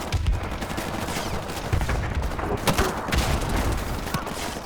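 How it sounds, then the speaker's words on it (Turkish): Rapid explosive firing from a grenade launcher and other guns in the shooter game Modern Warfare Remastered, dense and loud, with bursts continuing throughout and a brief voice mixed in. "M ile bomba atarı kullan"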